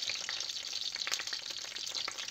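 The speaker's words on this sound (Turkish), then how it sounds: "şöyle çevire çevire patlıcanlarımızı kızartıyoruz" Crackling, popping sizzle of eggplant slices frying in hot oil, steady and close, with a few sharper spits scattered through.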